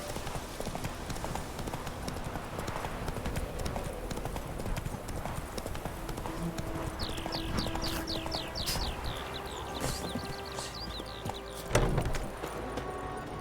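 Horse hooves clip-clop at a steady gallop in The Witcher 3: Wild Hunt, continuous and fairly close, with a neigh or whinny partway through and game ambience underneath.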